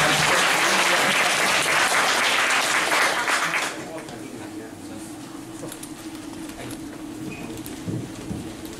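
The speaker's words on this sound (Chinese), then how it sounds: "那我们就热烈掌声欢迎他们两位" Loud crowd applause welcomes two guests onto a stage, a dense roar of clapping for several seconds that then drops off sharply, leaving quieter room noise with faint stray claps.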